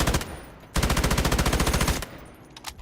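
A gun in a video game firing in rapid automatic bursts: a short rattle, then a sustained loud close-up stream of evenly spaced shots lasting over a second.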